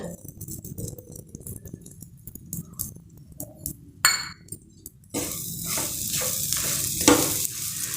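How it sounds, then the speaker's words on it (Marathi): Flour and gum powder roast in ghee in a pan, stirred with repeated scraping strokes and metal clinks over a low sizzle that grows louder and steadier midway, no talking. "आणि याला दोन तीन मिनटं भाजून घेऊ"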